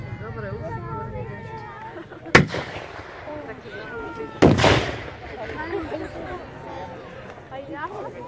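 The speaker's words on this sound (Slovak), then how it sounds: "Vidíte, že streľba útočného dela doslova priklincovala povstaleckú obranu k zemi." Assault gun firing in a Slovak National Uprising battle reenactment at Zemianske Kostoľany, with two loud, sharp blasts a couple of seconds apart over a steady outdoor din of crowd murmur and background noise.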